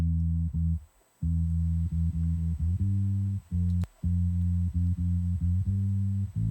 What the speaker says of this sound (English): Nice clean bass.